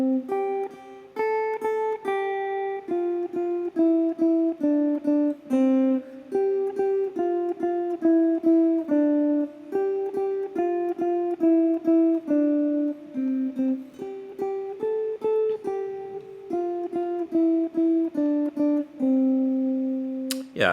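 On a guitar, a chord melody of Twinkle Twinkle Little Star is played in plucked chords and single notes at a slow, even pace, ringing cleanly and close, with no one talking.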